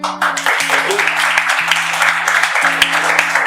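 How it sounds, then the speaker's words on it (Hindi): Audience applause for poems and stories at a small Hindi stage event, a steady wash of many hands clapping together with a low sustained tonal hum and a voice underneath. "बाकी एक बार पोएम एंड कहानियां के लिए ढेर सारी तालियां हो जाए।"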